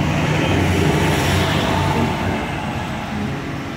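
Evening street traffic in Kona, Hawaii, with cars passing as a steady, fairly loud broadband roar and rumble that eases slightly toward the end; no voices.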